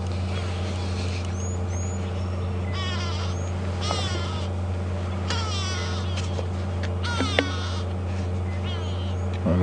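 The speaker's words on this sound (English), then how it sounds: "The go-away birds are now starting to alarm." Go-away birds give repeated harsh, nasal alarm calls at a safari game reserve, sounding at mid distance over a steady low vehicle engine hum.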